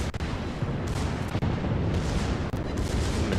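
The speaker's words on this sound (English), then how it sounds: "I'm gonna get my port side torpedoes away." Torpedoes and guns fire from a warship in the naval combat game World of Warships, a dense barrage of booming blasts and rumbling bursts that stays loud and continuous, with sharp thumps standing out near the start, middle and end.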